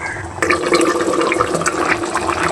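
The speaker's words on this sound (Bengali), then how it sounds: "দেখুন বলক কিন্তু উঠে গেছে।" Fish curry of shing catfish in spice masala bubbling up to a boil in a pan, a close, continuous simmering gurgle and sputter with no talking.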